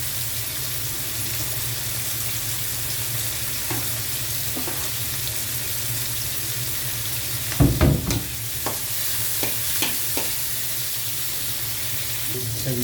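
Tomatoes and chili frying in a pan with a steady sizzle, with a louder burst of stirring clatter partway through and a few scattered utensil knocks afterward.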